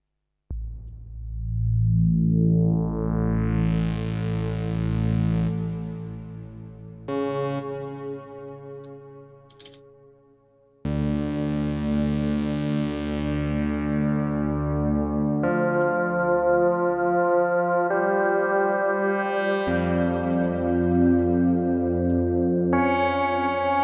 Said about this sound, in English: I'm just going to add in a little bit of reverb to this